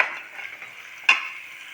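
Already-fried eggplant is stirred in a pan, giving a steady soft sizzle and scraping with one sharper knock of the spoon against the pan midway.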